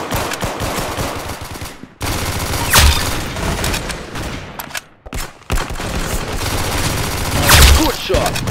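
Rapid automatic gunfire rattles in the Roblox shooter Arsenal, with loud bursts of repeated shots broken by short pauses. A few heavier booming hits stand out among the volleys.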